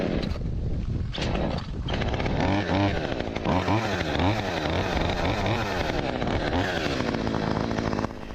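A chainsaw engine runs loudly and continuously, its pitch rising and falling as it revs while cutting.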